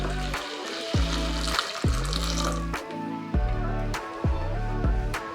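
Half a litre of milk is poured into a kadai on a stove for bottle gourd kheer, a steady liquid stream with a few clunks of a container against the pan, heard alone and fairly close.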